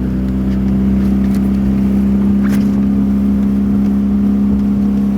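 A houseboat's motor hums continuously at a low pitch, loud and close, with a faint rise in revs midway and no voices.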